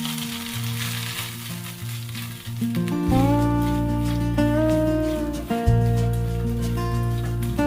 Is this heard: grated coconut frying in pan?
yes